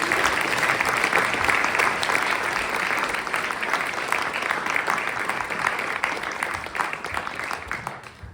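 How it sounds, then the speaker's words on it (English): An audience applauds steadily and at a moderate distance for several seconds, a dense even patter of clapping that tapers slightly toward the end. "Let's all give a big round of applause."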